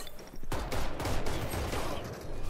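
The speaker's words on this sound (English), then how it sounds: "I missed every shot." Rapid automatic gunfire in Valorant, a loud, continuous burst of crackling shots that starts abruptly and holds for about two seconds.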